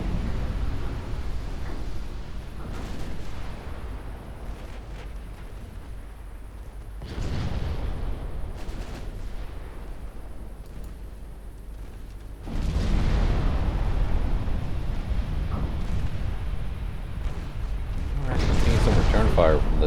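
Secondary 5.9-inch naval guns firing in a dreadnought-era naval battle game, heavy booming salvos rolling into a dense continuous barrage beneath a voice.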